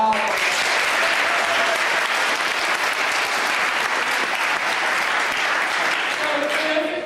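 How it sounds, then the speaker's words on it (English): Loud, sustained applause from an audience at a charity event fills the whole stretch, dense clapping that stays even throughout with no pause. "A huge round of applause for all of us."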